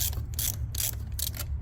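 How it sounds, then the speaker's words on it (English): A cordless electric ratchet spins fasteners during a 6.0 Powerstroke diesel turbo install, giving three quick whirring, clicking bursts close up, evenly spaced over a low background hum. "Electric Amazon ratchet, pretty handy."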